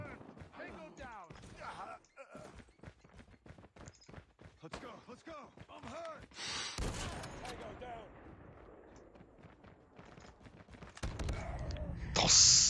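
Sharp, loud gunshots from the ZRG 20mm rifle in Call of Duty Mobile crack out in a few separated bursts, with a player talking over the game audio between them.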